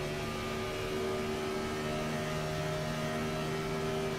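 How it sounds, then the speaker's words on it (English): A race car engine runs steadily at a distance as it heads into turn 1 at Auto Club Speedway during a Gen 4 stock car race, giving a continuous droning hum with no talk over it. "Let's hear Talon again into turn 1"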